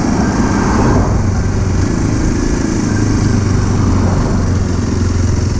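A Kawasaki KLX 230 motorcycle engine drones steadily during a night ride on city streets in Thailand. The sound is loud and close, with a constant hum and wind noise, and no speech.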